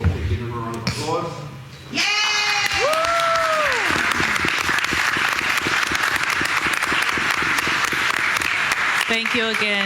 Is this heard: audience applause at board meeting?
yes